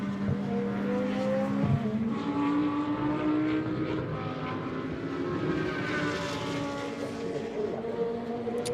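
A GT2 race car in European Series qualifying brakes hard and works through corners, its engine note rising and falling continuously at close to moderate range, steady and loud with no talk.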